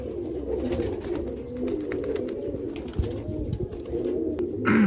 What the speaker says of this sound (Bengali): পায়রাটা দেখুন